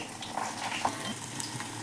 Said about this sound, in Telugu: ఇక్కడేమో తాలింపు పెట్టుకుంటున్నాను